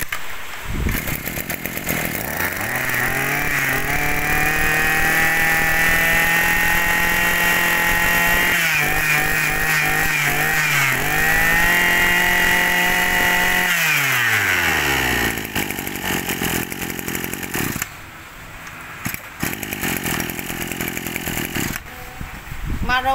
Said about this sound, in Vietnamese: Maru này công suất là 26cc, nồng 34 ly nha ha. Chạy cực kỳ ổn định.